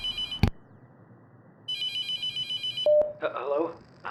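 A telephone rings in The Mortuary Assistant horror game: an electronic ringtone in two bursts separated by a pause, then a click and a brief voice-like sound over a low background hum.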